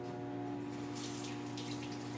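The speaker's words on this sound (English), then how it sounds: "Just washing my hands right now just to get all the grease off" Water runs steadily from a kitchen tap as hands are washed to get grease off, a constant close hiss with splashy bursts and a faint hum underneath.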